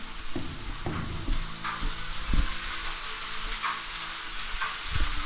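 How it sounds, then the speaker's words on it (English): Food sizzles and fries in a pan in the game Far Cry 5, a steady crackling hiss with occasional stirring scrapes, heard close and alone without talk. "She's frying some food and stuff."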